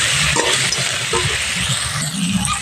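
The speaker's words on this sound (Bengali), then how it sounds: "এদিকে কাঁকড়াটা ভাজা হোক," Crab frying in a pan with spices, a loud continuous sizzle with stirring scrapes and clatter close up.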